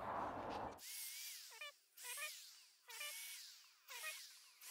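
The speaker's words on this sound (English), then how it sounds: "I'm gonna pre-drill a couple to go this way and then from the bottom." A power drill whirs in four short repeated bursts while pre-drilling holes in wood, each spinning up and winding down, close by with brief quiet gaps between.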